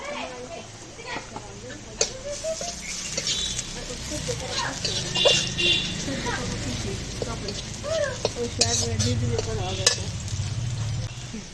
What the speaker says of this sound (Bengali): পেঁয়াজ ভাজা হয়ে গেছে, তুলে নিব।